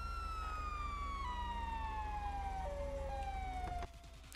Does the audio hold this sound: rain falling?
no